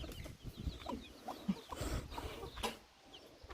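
Chickens cluck softly on a farm, a few close, irregular clucks and murmurs over quiet background noise, with no talk.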